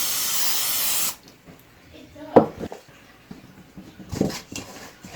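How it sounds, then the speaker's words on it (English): Cooking spray hisses from a can onto a bread loaf pan, a loud steady one-second burst at close range, followed by quiet handling noises and a few faint clatters. "I'll spray up my pan so it doesn't stick on there."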